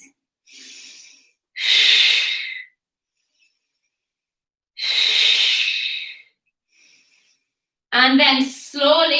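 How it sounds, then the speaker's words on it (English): Slow, deep breaths in and out during a leg stretch, three long audible exhales with quiet gaps between them and a spoken voice near the end. "So lovely deep breaths where you are. As you exhale, try and relax the muscles, please."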